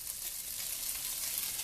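Shrimp sear in a covered pan, giving a steady, soft, hissing sizzle that stays even and muffled throughout.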